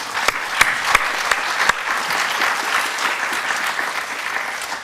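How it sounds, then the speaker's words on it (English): An audience applauds panelists at the close of a 3D design and motion graphics talk in Toronto, a steady wash of clapping lasting the whole stretch with a few sharp louder claps standing out near the start. "Let's give our panelists another big round of applause"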